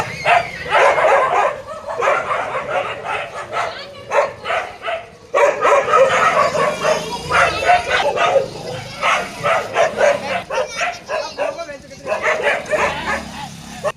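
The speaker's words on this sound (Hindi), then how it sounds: "पांच वहां भौंक रहे थे, छठा यहाँ पे भौंक रहा है।" Several dogs bark repeatedly nearby in loud, irregular bursts of barks and yips, continuing through the whole stretch over faint background noise.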